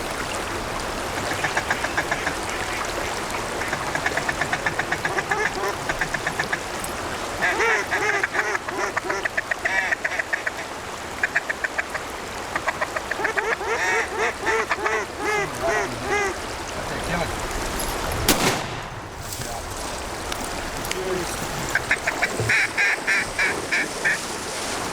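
Ducks quack in bursts on a flowing river during a duck hunt, with rapid calls rising and falling over a steady water rush, while people talk quietly nearby and a sharp bang sounds once near the end.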